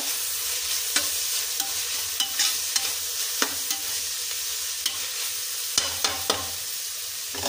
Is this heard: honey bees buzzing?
no